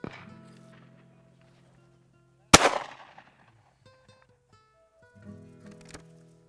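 Shotgun fire while dove hunting outdoors: a single sharp report stands out in the middle, with a fainter second bang near the end over quiet background.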